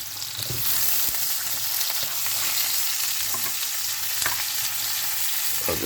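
Chopped onion sizzles steadily in a hot pan, a constant frying hiss with scattered scraping clicks as it is stirred, close and fairly loud with no talking.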